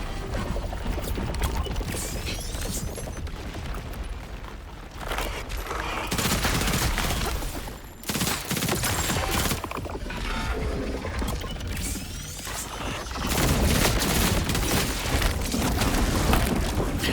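Dense, loud gunfire from the video game Borderlands 4 rattles almost nonstop, with heavy booms and mechanical clatter layered over bursts that briefly dip around the middle before surging again.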